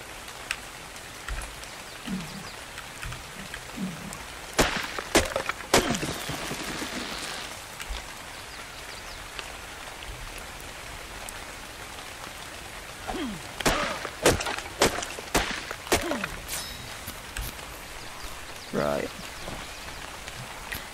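Rain falls in the video game Ark Survival Evolved, a steady patter laid over scattered sharp cracks and thwacks, with someone talking in bursts across parts of the scene.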